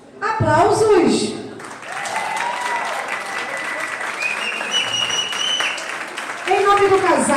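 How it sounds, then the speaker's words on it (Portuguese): Wedding guests break into sustained applause after a toast to the newlyweds, a dense, lively clapping crowd with a voice talking and shouting over it at the start and end. "Aplausos."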